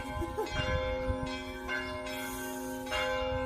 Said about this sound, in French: Ah, les cloches.